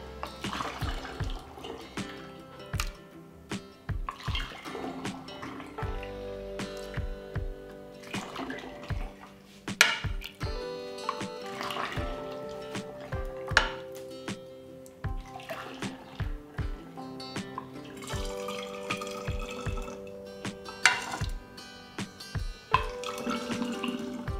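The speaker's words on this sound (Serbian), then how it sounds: "ovako pripremljen sok sipat ću u prethodno sterilisane i čiste flaše" Homemade juice poured into sterilized glass bottles, a continuous liquid trickle and gurgle with rising tones as each bottle fills, broken by clinks and brief pauses between pours, close and fairly quiet.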